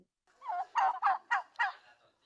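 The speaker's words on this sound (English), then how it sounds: "Here's the female hen clucking that they can just do anytime to sort of stay as a group and keep in contact with other turkeys." A recording of a wild turkey hen plays five or six short, clipped clucks in quick succession, clear and close against silence.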